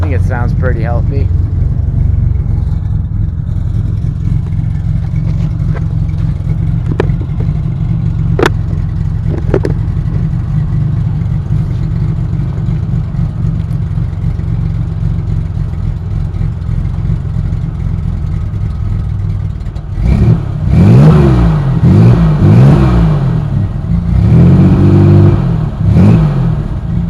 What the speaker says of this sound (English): It's got a performance camshaft in it because it's got a little bit of a throaty idle